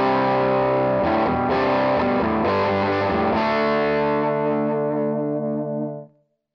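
Electric guitar through a Marshall Theatre Haze 40 combo amp with the boost off and the volume at two-thirds: several strummed chords with mild crunch, the last ringing out and decaying before being cut off.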